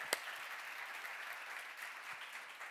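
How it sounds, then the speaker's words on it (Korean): A church congregation claps in steady, dense applause through the whole stretch, moderately loud and even, with one sharp louder clap near the start and no talk over it. "박수로 하세요"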